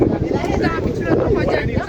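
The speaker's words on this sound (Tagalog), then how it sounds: "Grabe ang hangin, ang lakas." Strong wind buffets the microphone with a constant roaring rumble, and voices can be heard talking underneath it.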